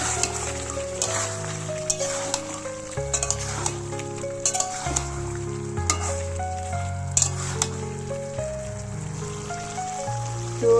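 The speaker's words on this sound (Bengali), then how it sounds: "আমার মাংসটা কষা কষা হচ্ছে" Chicken sizzles as it is sautéed in soy sauce in a pan, a steady frying hiss with occasional stirring scrapes beneath a soft musical background.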